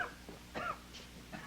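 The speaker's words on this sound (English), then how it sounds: "That's a bad cough, mister." A man coughs in a few short, rough bursts, close by and fairly loud against a quiet background.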